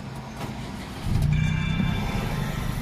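A 2013 Mitsubishi car starts by push button: after a quiet moment the engine catches with a brief cranking whir and settles into a steady, close, rumbling idle.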